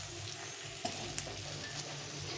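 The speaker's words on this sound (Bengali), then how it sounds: "আলুটা মাছ ভেজে সেই তেলে ভেজে নিলাম" Potato pieces fry in oil left over from frying fish, a soft steady sizzle with occasional faint pops and light stirring clicks, close but quiet.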